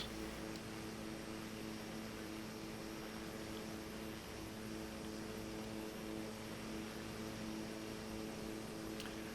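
Steady, droning rotor and engine hum of a helicopter in a video game, flying over Easter Island, continuous and even throughout with no voices.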